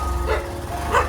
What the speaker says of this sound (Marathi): तिथे एक कुत्रा असतो